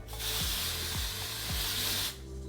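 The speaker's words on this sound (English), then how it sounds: "even sometimes I don't need dry shampoo, I still want to spray this on" Aerosol dry shampoo sprayed onto hair in one continuous hiss lasting about two seconds, close and clear, with a few soft knocks underneath.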